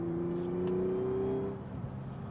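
Audi B8.5 S5 engine at full throttle, a faint steady drone with a rising tone for about a second and a half before settling, heard from inside the car.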